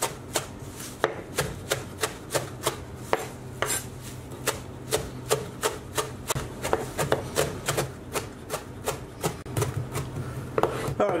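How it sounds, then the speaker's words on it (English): A knife chops fresh herbs for Persian ghormeh sabzi on a cutting board, giving a steady, close run of crisp, evenly spaced thuds that carries on for several seconds with no talking. "all we're doing is chopping"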